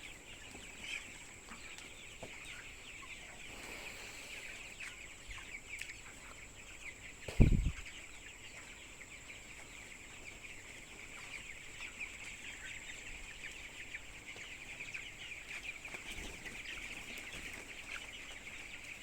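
Broiler chickens about 20 days old clucking softly and steadily inside a poultry house, a low continuous flock murmur with a brief louder thump or flap partway through.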